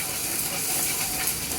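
Potatoes frying in hot oil for aloor dom, a steady, loud, dense sizzle and hiss that stays even throughout.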